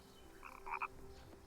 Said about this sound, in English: Sounds like a real frog.